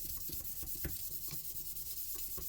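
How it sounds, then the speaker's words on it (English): Fine 1000-grit sandpaper lightly rubs over a wooden table tennis blade, a soft steady hiss with repeated back-and-forth strokes heard close up and without any talking. "you're gonna lightly go over the blade with 1000 plus grit sandpaper"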